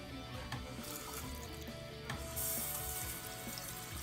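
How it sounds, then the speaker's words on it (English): A sink tap runs in a steady, continuous stream of water for hand washing, a constant hiss and splash with no talking over it. "Turns on water at sink."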